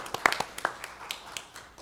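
Scattered hand claps from a small audience in a county commission meeting room, a few sharp claps then a thinning patter, fairly faint and brief with no talking.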